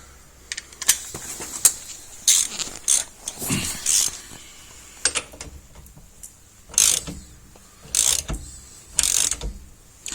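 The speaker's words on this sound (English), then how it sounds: "There's the socket wrench." A socket wrench ratchets in quick clicking bursts during a hub bearing swap on a 2009 VW Polo. The bursts are close and fairly loud, separated by short quiet gaps, with no talk.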